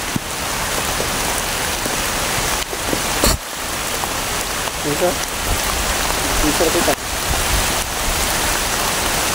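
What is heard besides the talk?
heavy rain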